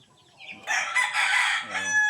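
After a quiet moment, a rooster lets out one loud, close crow that stretches on for over a second.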